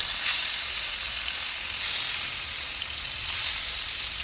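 Fish frying in oil with curry leaves, a steady, dense, close sizzle that holds evenly throughout with slight swells, no talking.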